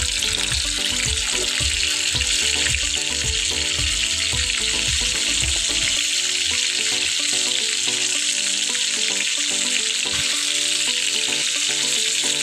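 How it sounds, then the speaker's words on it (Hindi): Chicken pieces fry in hot oil, a loud dense close sizzle with bubbling, heavy popping at first that evens into a steady hiss, no voices. "ऑयल गर्म हो चुका है, इसमें हम चिकन डाल के फ्राई करना शुरू करेंगे।"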